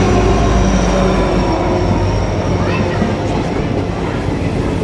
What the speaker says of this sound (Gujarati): ફાઇનલી અમારી ટ્રેન અહીં આવી ગઈ છે